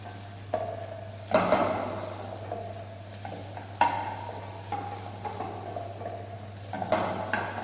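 Hariyali palak gravy being sautéed in a pan: a steady low sizzle broken by several distinct stirring scrapes and clinks of a spoon against the pan, close and with no talking.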